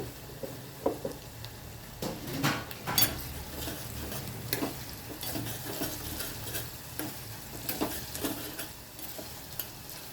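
Onions fry with salt in a pan for a tomato curry, a soft continuous sizzle broken by irregular scraping stirs and light utensil clinks, with nobody speaking.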